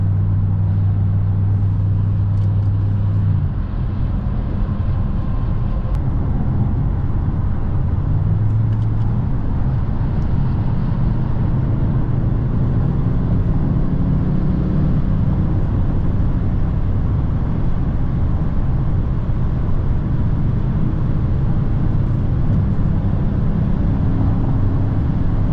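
An Audi S8 D4 sedan cruising at high speed on the autobahn, filling the cabin with a loud, constant roar of engine, tyres and wind, with a low engine drone that shifts in pitch partway through.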